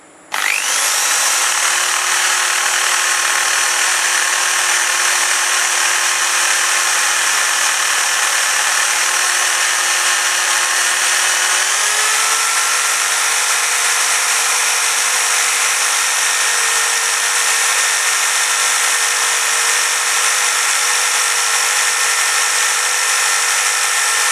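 A loud, steady power tool whine grinds continuously while shaping a robot wheel, the pitch dropping slightly partway through as it bears down on the material.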